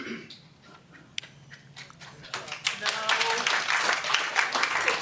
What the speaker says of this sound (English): Hold your clapping, please.